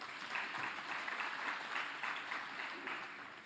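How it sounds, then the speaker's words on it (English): A crowd at an ANC political gathering applauds the police with a steady, even patter of many hands that carries on through the whole stretch. "I want us to give a big round of applause to the police who have arrested"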